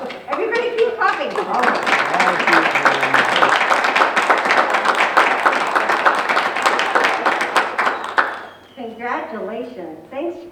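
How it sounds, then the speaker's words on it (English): Audience at a city council meeting clapping for a birthday, a sustained burst of many hands under talking voices that fades out after about eight seconds, leaving only speech. "Everybody keep clapping"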